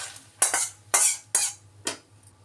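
A spatula scrapes a fried egg out of the pan and onto a plate while making egg fried rice: four distinct close metallic scrapes, evenly spaced, with no one speaking.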